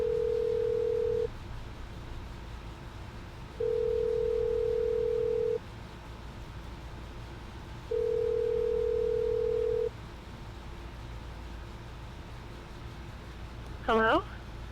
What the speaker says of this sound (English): let's see if we can get Ronnie on the phone